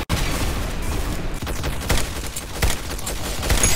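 Rapid gunfire in the online shooter game Arsenal, a dense continuous barrage of loud shots with a few sharper cracks standing out, filling the whole stretch without pause.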